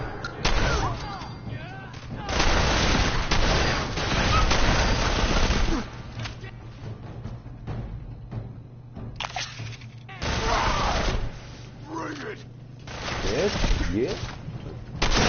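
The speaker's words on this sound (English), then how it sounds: "What a lot of fucking bullets" Heavy gunfire in the Fallout 4 video game comes in dense, sustained bursts of shots, with loud stretches and brief lulls, mixed with someone talking throughout.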